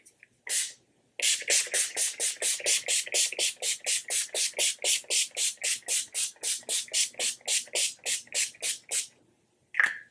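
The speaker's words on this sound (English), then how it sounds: "So I'm going to spray my face before I put on my lipstick" Rapid bursts of fine makeup setting spray hiss onto a face in quick succession, over twenty short puffs in a steady rhythm, close and crisp, with a single longer spritz before them.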